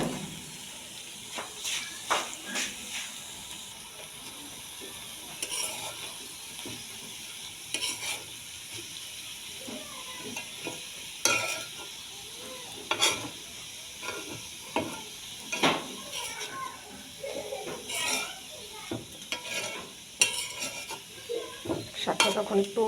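Leafy greens fry in a pan with a soft continuous sizzle, broken by irregular scrapes and clatter as they are stirred, close and fairly quiet throughout.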